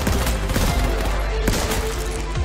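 Rapid scout rifle fire in the H1Z1 battle royale game, a dense, loud burst of shots running throughout with no pause.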